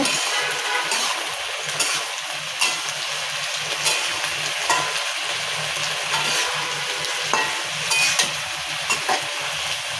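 Green chilies frying in a pan give off a loud, continuous close-up sizzle with occasional stirring scrapes and faint clicks throughout, no voices.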